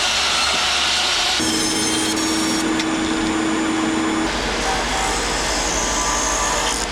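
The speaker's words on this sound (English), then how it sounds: "what I'm doing right now is I'm cutting out lozenges. This is some of that Atlantic white cedar." Atlantic white cedar being sawn into small lozenge pieces for a wooden boat's laminated frames, a steady continuous cutting noise with a power-tool hum through the middle stretch.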